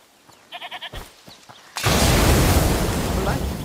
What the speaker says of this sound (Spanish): ¿Es la cabra que mencionó?